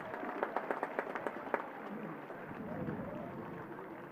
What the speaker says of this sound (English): Big round of applause for Salthill Knocknacarra